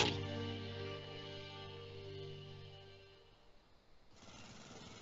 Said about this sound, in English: I'm just mowing the lawn.